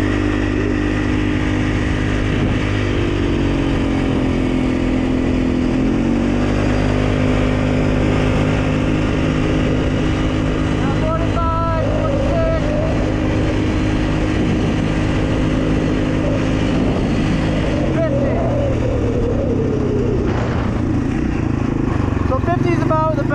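Polaris Sportsman ATV in high gear and two-wheel drive, accelerating across a muddy field: a loud, continuous engine drone climbing in pitch, easing briefly and rising again, close-up with wind buffeting and a few spoken words over it.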